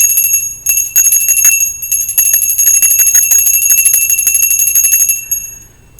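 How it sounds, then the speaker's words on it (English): Bright metal bell rung for energy clearing, its high ringing tones sustained loudly and steadily for several seconds before fading out. "I'm also going to be clearing the bell as well"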